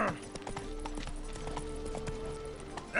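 Roach the horse in The Witcher 3, hooves clip-clopping in a steady walking rhythm at moderate distance, fairly quiet over soft background ambience.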